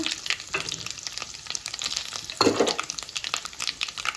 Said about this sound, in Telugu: ఇప్పుడు గుమ్మడి గింజలు పుచ్చ గింజలు కూడా పోసేసాను ఇవి కూడా ఆయిల్లో ఫ్రై అవ్వాలండి ఇలాగా